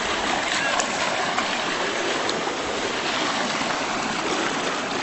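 Creek water rushing over a bridge, a loud, steady broadband gush close by with no pauses and no voices.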